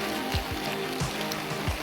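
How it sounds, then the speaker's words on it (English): Steady rain falling outdoors in a continuous broadband hiss, close and fairly loud, with no talking. "this rain has been going non-stop since about 5 o'clock this morning"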